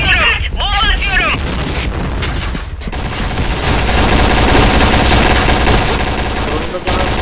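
Bomb explosions and gunfire in the game Point Blank: dense continuous rattling fusillade with booming blasts, loud and close, with voices talking over the din.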